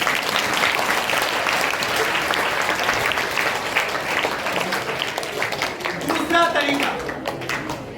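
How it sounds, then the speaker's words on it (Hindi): A seminar audience claps loudly and densely in a sustained burst of applause that continues throughout, with a few voices briefly rising near the end. "प्रकाश, तुम अपने लिए तालियां बजाइए"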